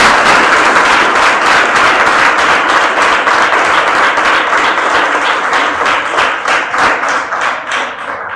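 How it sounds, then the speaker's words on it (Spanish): An audience at a political lecture on ETA applauds for about eight seconds, a dense, loud wash of many hands clapping that thins slightly toward the end. "Un aplauso, por favor."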